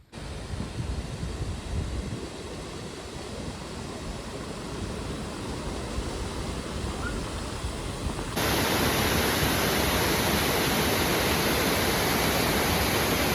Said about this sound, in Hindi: तो भाई पीछे ये वाटरफॉल इतनी ज़्यादा ज़बरदस्त लग रही है।